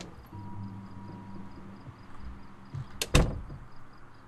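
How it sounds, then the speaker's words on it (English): In the zombie survival game Project Zomboid, a door closes with a brief creak, then a sharp thud that stands out over a quiet hum of background ambience. "I like closing the doors behind me just so I have my back covered"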